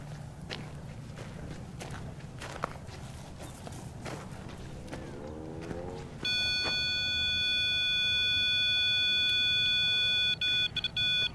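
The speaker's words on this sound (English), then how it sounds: "this is the REM pod feature on the millimeter, detecting an entity" Electronic alarm from a REM pod function on a ghost-hunting meter inside a tunnel in Tucson, Arizona: after a stretch of quiet shuffling footsteps, a loud, steady high-pitched tone kicks in and holds with brief breaks near the end.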